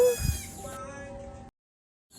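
A single wavering goat bleat rings out close by, then trails off into silence before faint sound returns.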